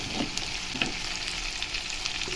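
Turmeric, green chilli and curry leaves fry in hot oil, a close, continuous crackling sizzle with faint stirring scrapes.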